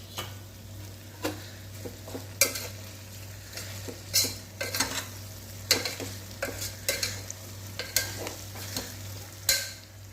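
Green chillies, coriander and mint sauté in a pan for vegetable biryani, a soft, faint sizzle broken by irregular sharp scrapes and taps of a spatula against the pan.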